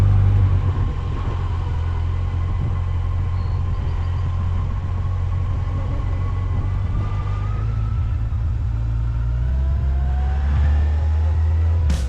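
Motorcycle engine on a touring ride, a loud, steady low rumble held throughout with slight rising pitch as it accelerates, close and continuous, no talking.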